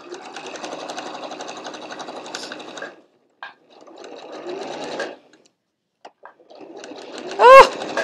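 Close-up sewing machine stitching fabric for a drawstring pouch, running in steady rapid bursts with short pauses between, stopping and restarting several times, with a brief squeak near the end.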